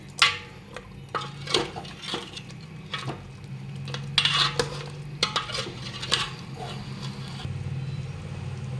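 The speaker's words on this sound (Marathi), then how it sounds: "आणि आता हे सगळं मिक्स करून घ्यायचं" A spoon scrapes and clinks around a copper pot of mutton in an irregular stirring rhythm, with a faint sizzle underneath.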